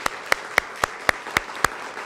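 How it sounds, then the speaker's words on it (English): Seven sharp, evenly spaced claps ring out at a steady brisk rhythm, close and fairly loud, at a school district spelling bee finals for seventh grade spellers, with no talking. "Let's give these young ladies a round of applause."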